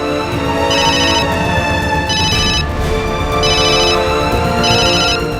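A telephone rings in repeated electronic bursts, four trills spaced evenly over steady background sound, loud and close.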